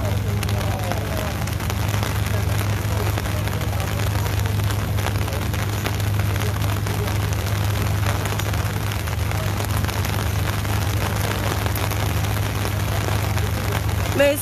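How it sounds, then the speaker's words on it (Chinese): Heavy rain pouring down on a street in Cheung Sha Wan, Hong Kong, a constant loud hiss over a steady low hum, with occasional faint voices underneath. "哇，好卵大雨啊！"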